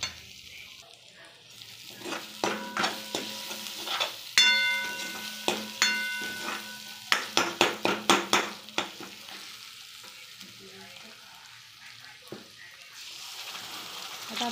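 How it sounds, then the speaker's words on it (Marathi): Pav bhaji masala with coriander powder stirred in a pan: clattering spoon scrapes and knocks in bursts, including a quick run of taps, over a soft sizzle, fairly quiet and close, with a stretch of calmer frying near the end. "चांगलं हलवून घेऊया"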